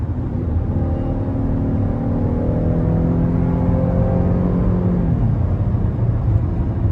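A 2018 Cadillac XT5 Platinum AWD with a V6 engine pulls hard from 60 mph, heard from inside the cabin as a steady, loud rumble whose engine note climbs over several seconds and then eases off.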